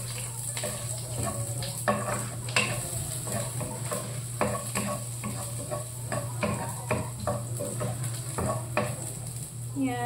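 Garlic, onion and tomato sautéing in a pan for a sardine dish, a continuous loud sizzle with repeated stirring scrapes and utensil clicks against the pan, no talking.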